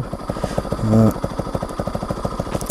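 A motorcycle engine idles at a steady, close, pulsing beat, with a brief rise as the throttle is opened in the middle.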